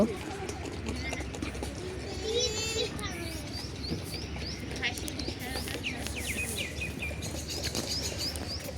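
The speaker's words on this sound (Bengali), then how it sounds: "এই তো দেখেন পাখি কত সুন্দর ডাকছে আমরার গাছের উপরে এই তো দেখেন এটা কবিতরের" Pigeons coo from a tree in the morning, with soft repeated calls and some wing flutter close by, while children's voices and chatter carry on in the background.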